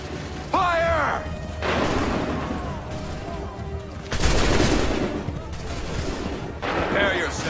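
Musket volley in the video game Assassin's Creed III, a loud burst of massed gunfire crashing out mid-scene amid shouted commands and battlefield noise, followed by further scattered shots.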